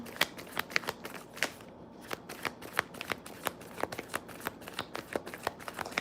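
Tarot and oracle cards being shuffled by hand, a quick run of crisp riffling snaps and soft flutters repeating steadily and close by, with no speech.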